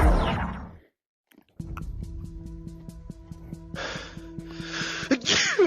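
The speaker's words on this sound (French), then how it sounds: "Je t'ai entendu éternuer fort, j'étais là." A loud sneeze bursts out at the start, followed by a pause, then a steady droning tone with a couple of breathy noises.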